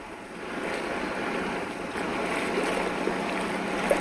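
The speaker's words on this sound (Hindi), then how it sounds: "ये बहाव आप देख सकते हैं कि कितना तेज बहाव है" Fast-flowing floodwater during the 2020 Bihar floods rushes in a steady, broad wash of noise, continuous and moderately loud with no talk over it.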